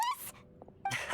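Short dog vocalisation from the video game Genshin Impact: a high yipping whimper, then a quiet gap with faint low sounds, and a second bright bark-like burst near the end, close and fairly loud.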